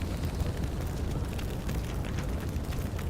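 A smoke grenade bursts in the video game Xenonauts 2, giving a dense, rumbling gush of hissing smoke that rolls on steadily for a few seconds, heard alone.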